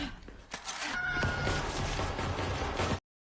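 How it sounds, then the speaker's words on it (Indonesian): Gunfire in a tense scene from the 2026 horror film Scream 7, a dense, loud burst of shots and crashing impacts filling the whole stretch over rumbling background sound. "Tatum yang datang untuk menolong ibunya akhirnya berani melepaskan tembakan"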